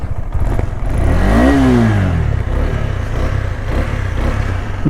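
A Telangana biker's motorcycle engine, on the ride toward the world's highest motorable road after a tyre blast, revs up with a rising then falling whine over a steady loud rumble, close and continuous with no talk.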